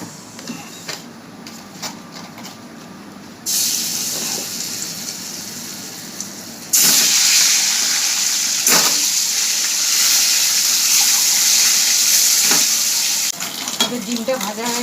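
Boiled eggs frying in oil with salt and turmeric, a close hissing sizzle that swells sharply louder partway through and keeps crackling steadily, with occasional clatters of stirring.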